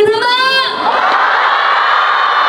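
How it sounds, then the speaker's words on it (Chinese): A live concert audience cheers and applauds, opening with a high sustained shout from the crowd before settling into a broad, loud roar of clapping and cheering that carries to the end. "我们掌声给他们"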